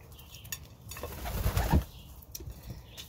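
Pet pigeons in a loft coo softly while wings flap and splash in a water bowl, a brief burst of flutter and rustle near the middle against quiet background chatter from the birds.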